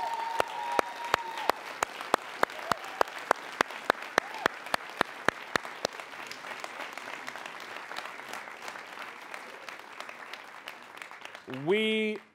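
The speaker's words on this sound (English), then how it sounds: "So I would just like to give them a round of applause." An audience at the Kennedy Center Arts Summit gives a round of applause, rhythmic clapping that carries loudly and slowly fades to a softer patter, with a voice breaking in at the very end.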